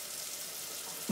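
Hands lathered with soap under a running tap give a steady, soft splashing hiss for about a second, ending in a slightly louder low splash.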